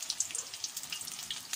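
Papaya omelette (tortang kapayas) frying in a pan, a steady soft crackling sizzle with fine popping throughout, fairly quiet and close, no voices.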